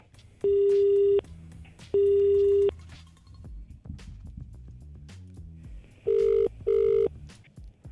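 A telephone rings in two long electronic bursts, then two shorter ones, over a low background murmur.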